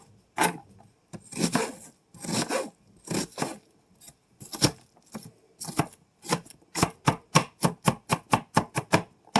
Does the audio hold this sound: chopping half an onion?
yes